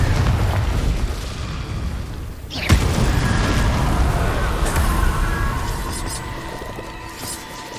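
Confringo fire spell exploding in the Hogwarts Legacy video game, a sudden sharp boom over a rumbling game soundscape, followed by lingering crackle and tonal effects, with a voice talking over it.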